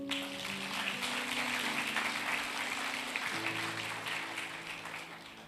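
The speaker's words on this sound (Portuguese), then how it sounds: "Vamos aplaudir o Senhor Jesus." A church congregation applauds in a dense, even wash of clapping, with a sustained keyboard chord underneath that shifts partway through and a gentle fade at the end.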